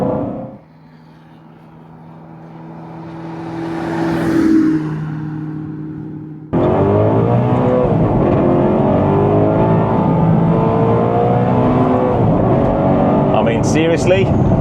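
Alfa Romeo 8C V8 engine droning at steady revs inside the cabin, then surging louder into a hard, sustained rev with rising pitch as the car accelerates.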